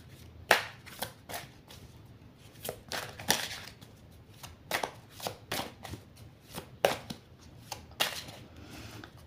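Tarot-style cards being shuffled by hand, irregular bursts of riffling and snapping card edges, close and fairly soft, continuing for several seconds without speech.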